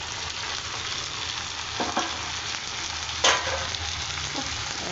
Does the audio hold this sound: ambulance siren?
no